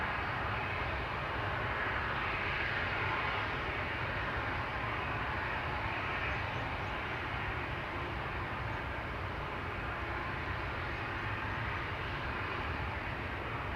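A KLM Embraer E195-E2 jet departing Amsterdam Schiphol produces a continuous, fairly faint broadband engine roar that stays level and unbroken throughout, with no voices.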